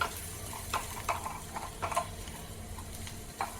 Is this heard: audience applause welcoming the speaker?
no